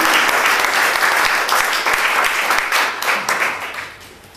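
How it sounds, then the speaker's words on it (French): An audience at a literary evening applauds warmly after a speech, dense steady clapping that holds strong for several seconds before thinning out at the end. "On l'applaudisse parce qu'il a été très chaleureux."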